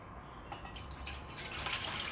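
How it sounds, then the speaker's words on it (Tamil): Leftover rice soaked overnight in water, its starchy water poured into another vessel, gives a soft continuous trickle and splash that grows slightly fuller toward the end, with no talking. "இன்னொரு பாத்திரத்தில் நான் ஊற்றி காமிக்கிறேன்"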